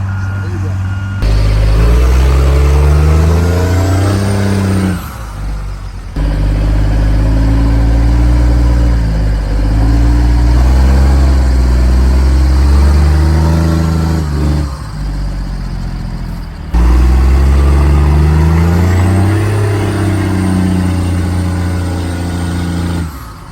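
An Oshkosh 7-ton truck on dual tires drives up a hill, its loud, close engine revving and labouring with gear changes, cut by a couple of brief pauses and with reversing beeps mixed in.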